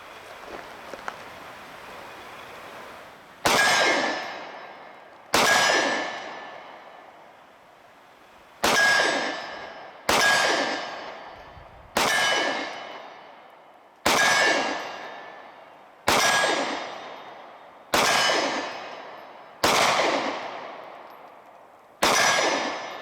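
A SIG Sauer P365 handgun fires about nine shots at a steel target 25 yards downrange, each sharp report followed by a ringing metallic clang that decays before the next, spaced roughly two seconds apart with no talking.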